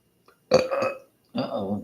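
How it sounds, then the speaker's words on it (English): A person burps loudly twice in close succession, a deep guttural belch followed by a second rumbling one after a short pause, heard close up. "They go belching."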